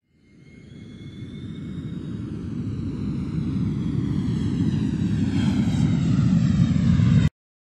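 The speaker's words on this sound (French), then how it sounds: "L'avion." An airplane passes overhead, its engine roar swelling steadily from near silence to a loud, broad rumble with a high whine that slides downward, then cuts off abruptly.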